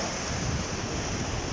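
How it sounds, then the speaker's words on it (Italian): Sea waves washing in on a beach during surf fishing, a steady close rushing wash of surf with wind noise on the microphone, continuous and even, with no voices. "c'è un po' di risacca"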